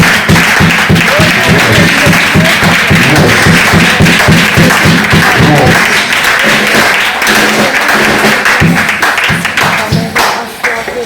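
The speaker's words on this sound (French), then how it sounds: "Acclamez le Saint" Congregation clapping at a church service in a steady rhythmic beat that loosens into scattered, dense applause, loud and close throughout.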